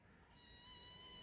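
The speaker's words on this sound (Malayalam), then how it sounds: "പൂച്ച." A single soft cat meow, faint and brief, rising out of quiet background.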